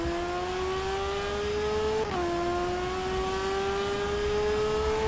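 A motorcycle engine in the TT Isle of Man racing game revs steadily upward, briefly dips at a gear change, then climbs again in a smooth continuous whine with no talk.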